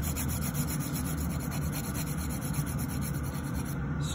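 Natural fingernails being shaped with a nail file, a steady, close, continuous rubbing rasp that holds evenly throughout with no talking.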